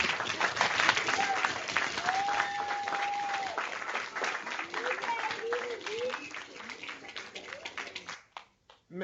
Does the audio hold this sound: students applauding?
yes